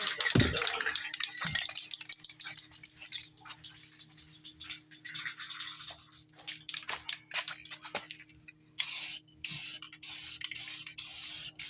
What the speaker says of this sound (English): Rattle can restoration.